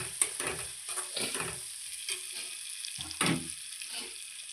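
An egg fry mixture is stirred in a hot pan, with intermittent scraping strokes and a soft sizzle underneath, close and fairly quiet, with no talking.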